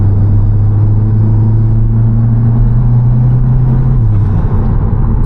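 A car engine holds a steady, loud low drone with a strong humming tone that drops in pitch near the end, as if easing off the revs; the throttle is heard alone with no talking.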